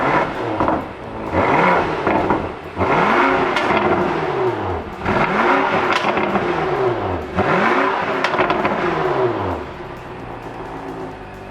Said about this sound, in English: it makes an exhaust note that is unforgettable